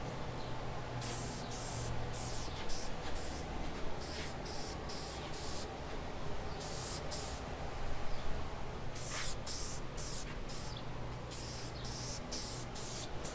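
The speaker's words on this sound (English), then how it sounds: "Now I'll come by with some spray shellac and go ahead and shellac these parts." Short hissing bursts from an aerosol can of shellac sprayed onto wooden shelf spacers, several quick sprays in a row with brief gaps, close and fairly quiet.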